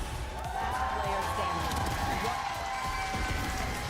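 A crowd at a watch party for the VCT EMEA Stage 1 playoff grand final cheers steadily and loudly throughout, a dense continuous roar of voices with shouts mixed in.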